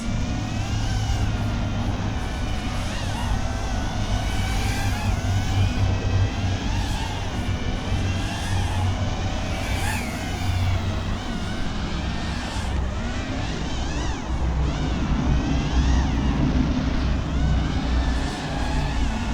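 A Pyrodrone Hyperlite FreeRange freestyle FPV drone flies with full-throttle punch-outs, giving a steady, loud, buzzing motor whine with surging pitch throughout.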